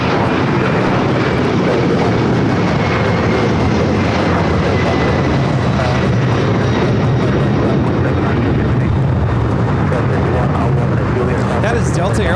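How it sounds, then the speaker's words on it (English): A Delta Boeing 767-400ER takes off, its jet engines producing a loud, dense, sustained roar that stays strong for the whole stretch, with voices talking over it. "That is Delta Airlines 958 taking off to JFK on the 767-400 ER."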